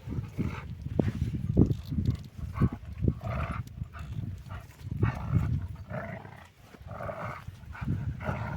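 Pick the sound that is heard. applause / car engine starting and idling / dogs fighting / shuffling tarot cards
dogs fighting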